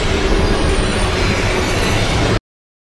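A train rumbles and clatters loudly and close by as it slows, a dense continuous roar with a faint high squeal, then cuts off abruptly into silence.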